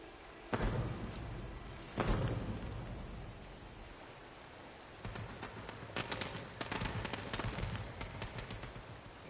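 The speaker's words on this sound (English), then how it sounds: "It sounds like fireworks are going off." Fireworks go off in the video game Hitman 3: a few sharp, booming bursts, then a denser cluster of crackling pops, heard at a distance over a steady low ambient rumble.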